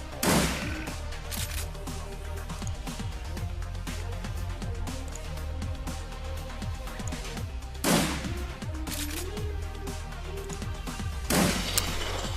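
Gunfire and explosive booms in the video game Shadowrun Returns, with three heavy blasts spaced several seconds apart over a constant layer of game music and rumble.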